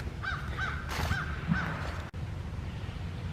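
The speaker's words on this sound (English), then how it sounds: "There's a crow up in that tree." A crow caws four times in a steady, evenly spaced series, fairly close, from a tree in Jefferson Memorial Forest, over a low outdoor rumble.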